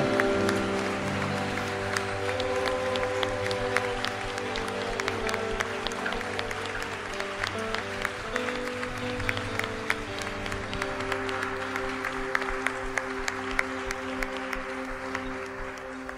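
A congregation applauds during a worship service, steady clapping spread across the whole stretch beneath sustained music with held chords.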